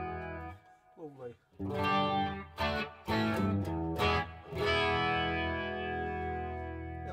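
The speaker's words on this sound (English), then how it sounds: "pseudo Leslie tones, Leslie speaker tones as well." Electric guitar through a Boss Waza Craft CE-2w chorus pedal set for a rotating Leslie-speaker-style wobble: a short bent lick, then full ringing chords that pulse and swirl up close and sustain as they slowly decay.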